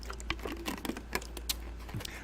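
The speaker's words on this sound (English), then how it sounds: "Did you hear me typing there? I was typing like a furious little typist" Rapid, uneven clicking of fingers typing on a computer keyboard close by, a steady patter of sharp keystrokes over a low background hum, with no talking.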